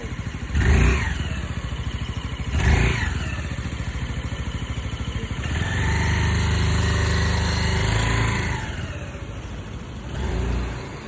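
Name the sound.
Lambretta G350 scooter engine accelerating during test ride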